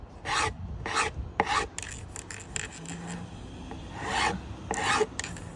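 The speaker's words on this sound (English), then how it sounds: "As I'm running my planer, I'm running it on an angle." A planer shaves a wooden worktop edge at an angle in a series of short, rhythmic rasping strokes, about one per half second with pauses, close and fairly crisp.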